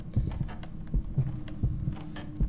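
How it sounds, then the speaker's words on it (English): A heartbeat sound effect in the video game Anna: Extended Edition gives low, soft paired thumps in a steady rhythm, repeating throughout on its own. "now you get to see me flail around and hear a heartbeat all the time"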